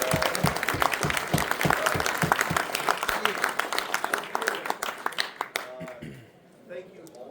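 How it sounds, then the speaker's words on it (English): A roomful of players claps for the organizers at a Warhammer The Old World tournament awards ceremony, the individual claps distinct and rhythmic before thinning out and stopping, with talk heard alongside. "Can we all clap for the TOs?"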